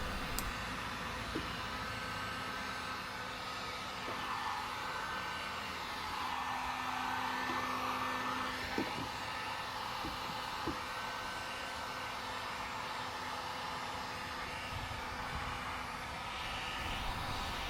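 A heat gun blows steadily on a Chevrolet Impala bumper cover to soften a dent, a continuous whooshing hiss of moderate loudness running throughout with faint knocks and taps mixed in.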